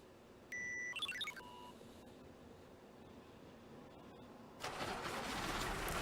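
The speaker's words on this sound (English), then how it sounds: "I powered on the engines of the heavy machinery and had them all surge forward." Heavy machinery engines in a video game starting up, a low mechanical rumble that kicks in and swells into a broad, steady roar near the end, preceded by a few electronic beeps and tones.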